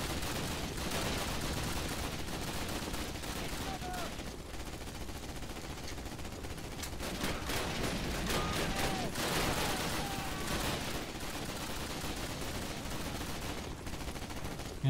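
Dense, continuous gunfire in Call of Duty: United Offensive, steady volleys of rifle and machine-gun shots with the battle noise sustained throughout and a voice faintly present.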